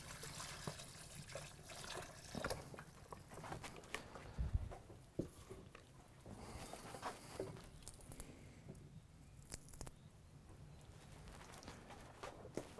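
Water is poured into a pot of Irish lamb stew on the stove, a soft, faint splashing and trickling with light clinks, heard close with no talk.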